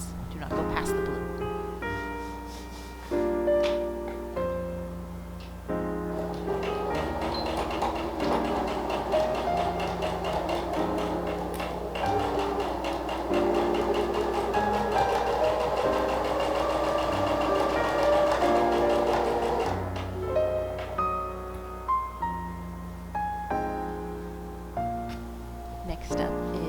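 Sewing machine stitching the sleeve side seam of a handmade Regency shift, a close mechanical whirr with steady needle clatter running in bursts and one longer continuous run, while someone talks over it.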